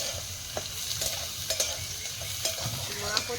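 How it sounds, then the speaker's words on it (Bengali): A metal spatula stirs garden vegetables frying in oil in a wok, with a continuous close sizzle broken by scattered scraping clicks. "খুন্তি নাড়ছে যেন আলাদা একটা সেন্ট বেরোচ্ছে"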